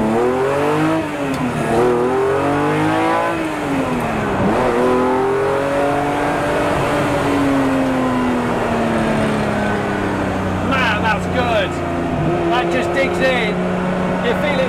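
A Ferrari 250 GTO restomod's engine revs hard and accelerates from 0 to 60, its pitch climbing in repeated sweeps as it shifts through the gears, loud and close.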